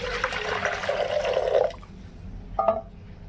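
Mint-infused water pours steadily for about a second and a half with a rising gurgle as the vessel fills, then stops; a brief splash or clink follows.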